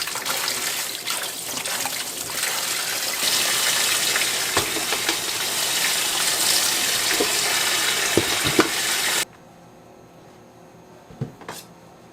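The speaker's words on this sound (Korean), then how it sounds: "흐르는 물에 호박 겉면을 닦아주세요." A kitchen tap runs steadily as a peeled pumpkin is rinsed under the stream, a loud, even gush with faint surface rubbing, then the water shuts off, leaving a few quiet knocks.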